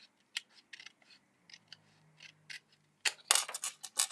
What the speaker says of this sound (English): then I'm going to cut this off